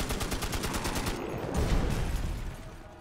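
Rapid bursts of video game gunfire from Magicka crackle in fast repeated volleys, a dense, sharp rattle that swells briefly midway and then thins out, with no talk over it.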